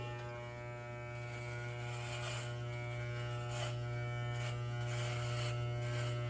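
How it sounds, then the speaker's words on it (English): An electric razor buzzes steadily and close up while shaving off a beard, its tone shifting slightly as it moves across the hair, with no talking. "I'm gonna shave this off too"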